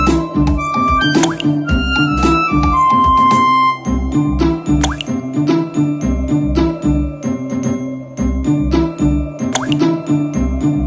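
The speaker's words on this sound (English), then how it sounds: "As more and more pebbles were dropped, the water reached to the top of the pot." Pebbles are dropped into a pot of water in an animated fable scene. Repeated watery plops and drips mix with tinkling chimes over a rhythmic musical backing, loud and steady, with no talking.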